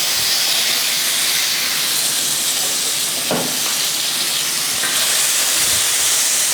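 Pieces of meat frying in a well-heated pan give a steady, loud, close hiss of searing that runs without a break, with a brief crackle partway through.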